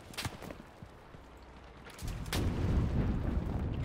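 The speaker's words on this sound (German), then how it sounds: "Die schießen da auf mich." Enemy gunfire in the World War II shooter Enlisted, set in Tunisia: a few sharp distant shots and booms, then a louder rumbling burst of fire that swells and lingers near the end.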